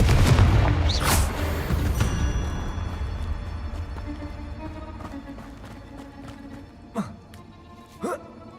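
A Confringo explosive spell cast in the Hogwarts Legacy video game: a loud, booming blast at the start fades into a long, rumbling tail, followed later by two shorter, softer whooshing bursts.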